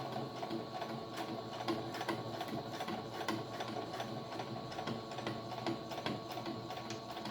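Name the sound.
sewing machine top stitching fabric face mask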